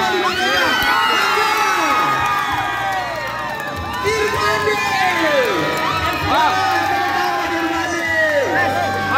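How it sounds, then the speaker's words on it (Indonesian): A crowd cheers, whoops and shouts for the runner-up at a boat race prize ceremony in Langsa's protected forest, with loud, continuous voices, children's shrieks and yells filling the air throughout. "Tepuk tangan dong untuk Syarul."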